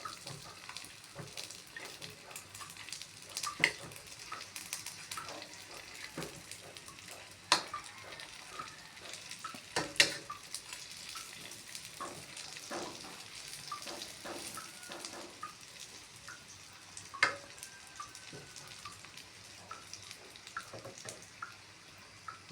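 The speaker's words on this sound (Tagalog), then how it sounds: "Naligtarin ko lang po. Para yung kabilang side naman po yung maluto." Bean sprout spring rolls (lumpia togue) frying in a pan, a steady soft sizzle and bubbling oil with occasional sharper pops and crackles, close and continuous with no talk.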